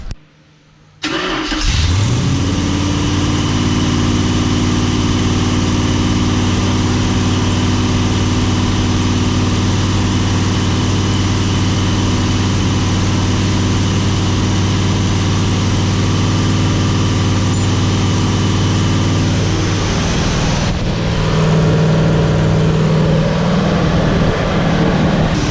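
An engine starts after a brief silence and settles into a loud, steady idle while a flat tappet camshaft is broken in. The drone holds evenly before shifting slightly in tone near the end.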